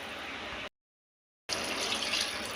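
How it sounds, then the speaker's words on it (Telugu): Water is poured into a pan of tomato egg curry, a steady close splashing rush that cuts out to silence for a moment, then resumes. "ఇప్పుడు ఇందులోకి 2 గ్లాసెస్ వాటర్ వేసుకున్నాం."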